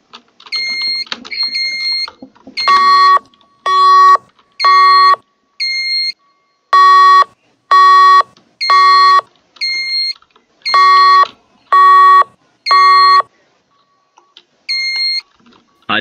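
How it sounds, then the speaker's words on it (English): A smoke detector fire alarm in the Roblox video game sounds loud, repeated electronic beeps in a steady on-off rhythm, with a few softer chirps at the start and end and no talking. "we was gonna test that, but the smoke detector broke"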